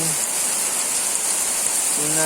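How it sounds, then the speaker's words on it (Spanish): Heavy rain pours steadily in a dense, loud hiss of drops on a thatched roof, continuous throughout with no talking. "gran torrencial de lluvia"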